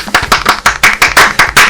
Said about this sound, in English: Golf clap, people.